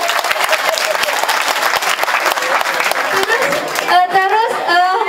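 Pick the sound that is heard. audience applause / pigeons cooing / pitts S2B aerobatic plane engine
audience applause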